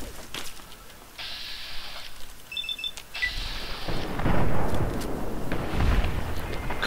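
Gunfire and explosive blasts in the post-apocalyptic shooter Fallout 3, a player under fire from behind: broadband bursts and booms rise in the second half over an electronic tone, loud and fairly close.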